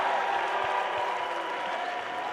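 A tennis crowd at the 2024 US Open applauds steadily, a dense, continuous wash of clapping from a large stadium audience that holds even throughout without voices standing out.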